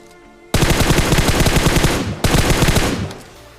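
Automatic gunfire from a battle royale video game rips out in two long, rapid bursts of loud, closely spaced shots, with a brief break between them and quiet before and after.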